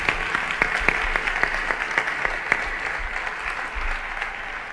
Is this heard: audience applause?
yes